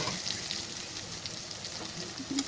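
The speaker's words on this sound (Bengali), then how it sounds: "ঢাকনা দিয়ে আরও কিছুক্ষণ ভেজে নিতে হবে" Taro stolons fry in a covered pan over low heat, giving a soft, steady sizzle and faint crackle throughout, quiet and unbroken.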